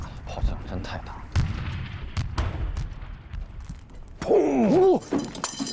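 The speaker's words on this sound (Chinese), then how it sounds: "炮击量太大了，攻势肯定撑不住。" Heavy artillery shelling in a 2025 war film: repeated booms and crashes are mixed with voices, and a whistling, warbling shell sweep rises toward the end.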